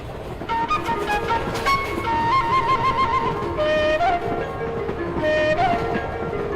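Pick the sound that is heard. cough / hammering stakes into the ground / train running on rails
train running on rails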